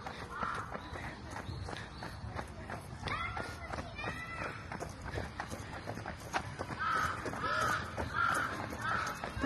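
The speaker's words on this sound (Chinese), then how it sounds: "这公园里的乌鸦很多，但秋天好像比夏天少很多。" Crows caw repeatedly in a park in Japan along a running course, several hoarse calls at mid distance over the soft thud of running footsteps, with a person talking throughout.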